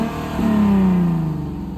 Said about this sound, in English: I'm gonna have Izzy rev it.